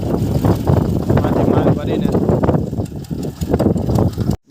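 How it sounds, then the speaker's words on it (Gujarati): A tractor engine idles close by in a low, steady rumble, with a voice talking over the running motor. "ટ્રેક્ટર આવી ગયું છે આપણું"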